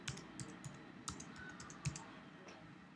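A password is typed on a computer keyboard in a quick, irregular string of light key clicks, close and quiet against a faint room hiss, with no voice.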